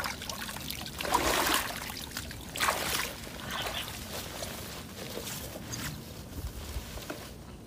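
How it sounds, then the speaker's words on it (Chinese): River snails rattle and clatter inside a fishing net pulled from a rain-swollen river, producing a few bursts of wet shaking and trickling water, fairly faint with dripping between. "螺的声音啊，"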